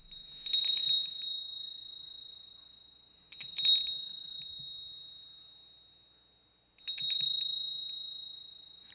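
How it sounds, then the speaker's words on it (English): A small bell of abundance is struck three times at even intervals, each ring a bright, clear ding that lingers and slowly decays, close and alone. "I'm gonna ring the bell of abundance."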